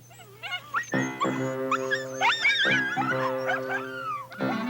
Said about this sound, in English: The dog team that you see here with me is the dog team that I use in the wintertime.